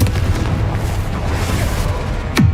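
The Confringo fire spell blasts in the Hogwarts Legacy video game, giving a dense, loud, rumbling roar that holds steady, with a sharp burst near the end and a falling tone after it.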